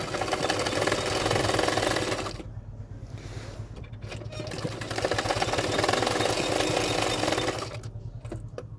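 A sewing machine runs up a seam with a half-inch margin on a half-collar bra-cut blouse. Its fast, even clatter is loud and close, stops briefly about a third of the way in, then starts again.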